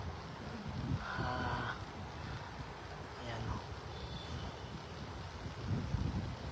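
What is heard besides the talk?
strong wind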